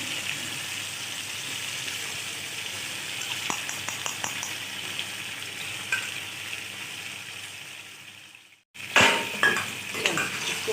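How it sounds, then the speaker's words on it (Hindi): Yogurt being stirred into a karahi curry in a pot, with steady sizzling and frying plus scraping of a utensil against the metal, a brief pause, then louder stirring clatter near the end. "इसको हम हिलाते हैं"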